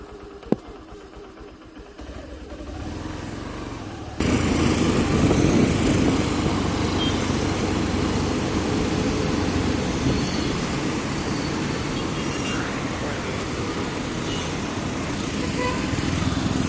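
A motorcycle engine runs at the start of a ride toward Koheda Hills, a steady near rumble mixed with broadband road noise that jumps louder after a few seconds and then holds level.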